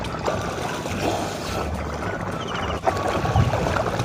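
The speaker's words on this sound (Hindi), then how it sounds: "मैंने यहाँ बोट की सवारी भी की, जिसका अनुभव कमाल का था।" A boat glides along a river, with continuous water swishing and lapping against the hull and a low motor-like rumble, fairly close and steady, with a small bump near the end and no talk.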